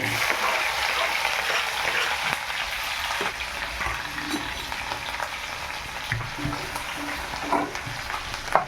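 Chopped green chillies fry in hot oil with cumin for sabudana khichdi, a loud, close, continuous sizzle with stirring scrapes and small pops scattered throughout, no voices.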